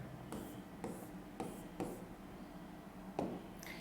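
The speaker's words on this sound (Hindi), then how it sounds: "मैं इसको डायरेक्ट लिख रहा हूं यहाँ पे।" Chalk or marker writing on a board during an electronics lecture, a series of short scratchy strokes in an uneven rhythm, close and fairly quiet over a low room hum.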